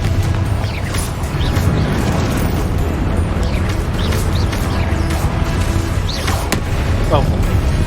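A fire-blast spell going off in the Hogwarts Legacy video game, heavy rumbling booms and crashing debris layered over a dense low roar, loud and continuous, with scattered game voices and effects on top.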